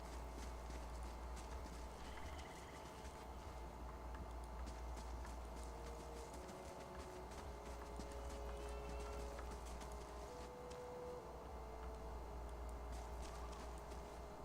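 Steady clip-clop of horse hooves in the Pillars of Eternity fantasy role-playing game, a faint continuous walking rhythm under a constant low ambient hum and quiet game music, with no talking.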